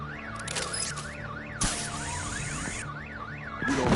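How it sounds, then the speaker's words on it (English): A car alarm goes off in a Batman video game, a looping electronic wail that sweeps up and down in a steady rhythm, broken by brief bursts of noise and a sharp mechanical click. "My bat stunner would set off the car alarm."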